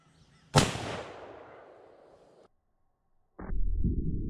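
An 1886 lever action elephant rifle fires a heavy lead or solid copper round into a stack of books, one sharp, very loud blast with a long fading echo, followed by a brief pause and then a rough low rumble.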